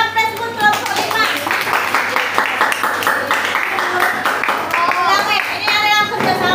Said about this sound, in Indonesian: berikan aplaus buat kelompok 5